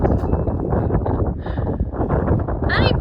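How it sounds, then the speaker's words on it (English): Wind blowing outdoors along Engleville Road near Fishers Peak, Trinidad, Colorado, makes a steady loud buffeting roar close to the microphone, with a brief faint rustle near the end. "It's so windy."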